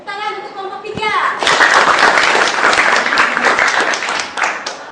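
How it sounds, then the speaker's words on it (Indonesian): A classroom of junior high schoolchildren claps for a student group, a dense burst of applause that starts after a brief spoken line from the teacher and continues steadily for several seconds. "tepuk tangan untuk kelompok 3"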